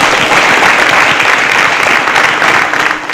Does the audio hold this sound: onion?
no